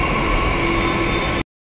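A Delhi metro train at the station gives off a loud, steady rumble and hiss that holds evenly, then cuts off abruptly.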